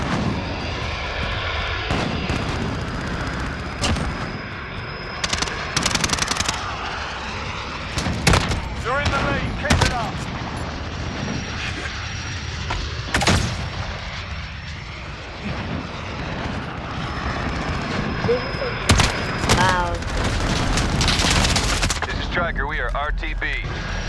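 Video game battle with gunfire and aircraft engine roar, sharp bursts of shots and blasts scattered over a steady droning hum, loud and close, with voices talking over parts of it.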